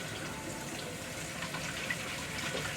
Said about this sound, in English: just like cold water running over it